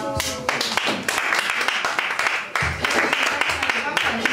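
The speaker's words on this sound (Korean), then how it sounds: "박수 주세요." An audience at a Korean character-education camp claps in uneven bursts while a voice keeps talking through the applause.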